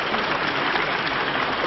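Staff applauding in a government ministry courtyard, heard as dense, steady clapping from a sizeable crowd in a short burst on an old archival recording.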